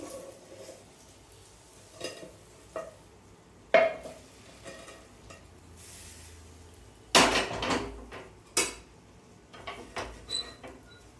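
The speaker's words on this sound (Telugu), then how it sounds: "ఒక 2 మినిట్స్ ఫ్రై అవనివ్వాలి" Kunafa frying in a pan gives a faint, low sizzle beneath occasional sharp clatters and knocks of cookware, with two louder bangs near the end.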